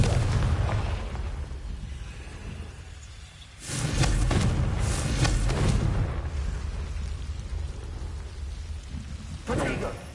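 A Confringo fire spell in Hogwarts Legacy bursts into a loud, rumbling explosion that holds for a few seconds, then a second blast follows near the end, amid game ambience and a voice.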